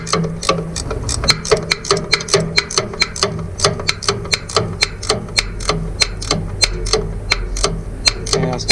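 Rapid, even clicking of a 9/16 ratcheting wrench working a bolt on a 1940s BF Avery Model V tractor, a steady close run of sharp mechanical ticks lasting several seconds with no talking.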